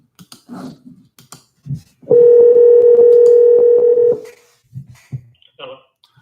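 A landline telephone dial tone plays as a number is dialed, a steady loud hum lasting about two seconds with brief tone blips, framed by faint background talk before and after.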